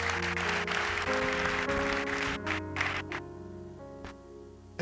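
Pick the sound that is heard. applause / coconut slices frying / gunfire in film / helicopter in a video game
applause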